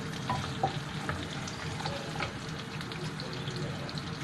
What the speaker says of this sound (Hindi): ये जो हमने साबुत खड़े मसाले और काजू लिए ये भी डाल देते हैं। इसको भून लेते हैं।